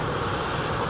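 Boeing 787 arriving at London Heathrow, a loud continuous roar of aircraft engines, broad and steady across the short span without pause or voices.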